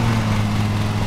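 Lawn mower engine in a lawn mowing simulator game runs as a loud, steady low-pitched drone, a constant even hum that carries on alone throughout without speech.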